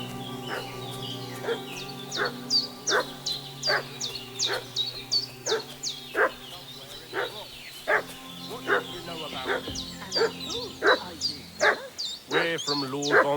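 A dog barks repeatedly in Kingdom Come Deliverance 2, a run of sharp, fairly close yelps and barks over a steady ambient bed of the game world.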